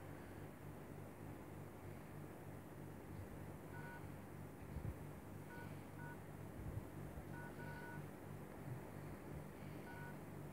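Short mobile phone keypad tones sound in a few brief clusters over a low, steady background hum, faint and fairly distant, with no one talking.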